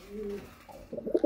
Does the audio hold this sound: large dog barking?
no